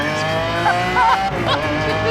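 Lamborghini Aventador SV (LP750-4) makes a launch control start, its loud engine roaring steadily with squealing tires whining over it, close and intense, with no speech in between.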